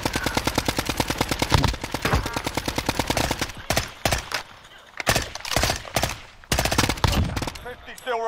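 Gunfire in Call of Duty Warzone, long rapid bursts of automatic fire hammering close and loud, broken by short pauses and then more bursts.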